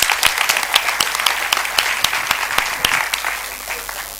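Church congregation clapping steadily for about four seconds, a dense, even wash of many hands with regular louder claps, tapering slightly at the end, no speech over it.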